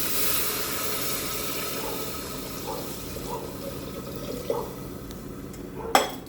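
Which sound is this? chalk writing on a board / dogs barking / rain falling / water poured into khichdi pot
water poured into khichdi pot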